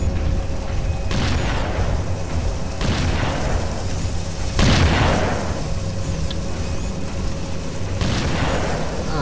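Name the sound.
rocket explosions in the video game Unreal 2: The Awakening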